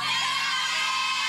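A crowd of girls screams and shouts together, a loud, sustained high-pitched din filling the space without pause.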